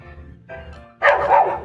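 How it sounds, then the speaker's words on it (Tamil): A dog barks a couple of times, loud and close, after a brief quieter lead-in; the yappy pitch suggests a puppy. "நாய்க்குட்டி"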